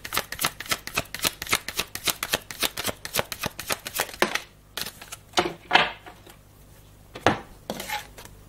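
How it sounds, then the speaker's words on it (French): Playing cards are shuffled in a fast riffle of crisp rapid flutters, then several separate cards are drawn with short, isolated slides and snaps, close and clear with no talk. "est-ce que tu peux juste me sortir une seule carte, Mickaël"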